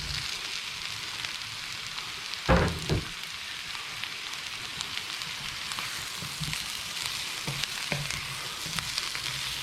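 Pumpkin chunks fry with spices in a pot for a lamb shank curry, giving a steady close sizzle and crackle, with a brief clatter of stirring or pieces dropping in early on.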